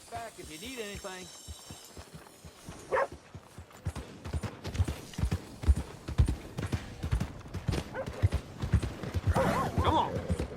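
Video game horse hooves clip-clop steadily over ground for most of the stretch, opening with a loud whinny and later snorts, with game sounds and faint talk mixed in.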